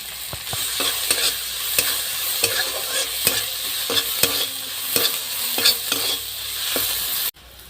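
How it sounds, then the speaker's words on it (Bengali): Chopped garlic and ginger sizzle and fry in a pan with onion and green chilli, a steady crackling hiss broken by regular sharp clicks of a spoon stirring, close and loud, ending abruptly. "এখানে রসুন আর আদা কুচি করে নিয়েছি, দিয়ে দেবো।"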